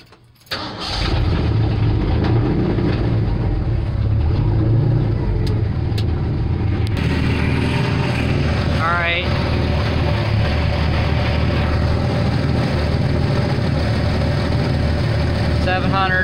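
A car engine cranks and catches after a short quiet moment, then settles into a steady, rumbling idle with an electric choke on, running continuously while voices speak intermittently.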